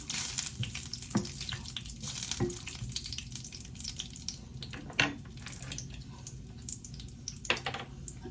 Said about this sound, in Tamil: அப்போ நான் கொஞ்சம் கச்சான வறுத்து கொள்கிறேன்